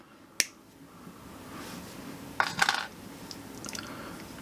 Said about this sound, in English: And then we're going to snip this off